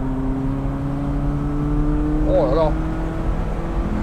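A BMW M3 E30 Evolution 2 from the 1980s pulls through corners with a steady, droning engine note from inside or near the car, while a man exclaims briefly over it.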